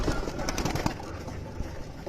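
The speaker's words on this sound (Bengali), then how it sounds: "এদিকে রয়েছে আমার মামার পাখি" A flock of pet pigeons coo and flutter close by, continuous overlapping throaty calls with bursts of wing rustle and shuffling.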